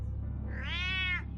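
A single rising and falling cat meow, clear and close, lasting about half a second, from the Batman Telltale video game, heard over a low background drone.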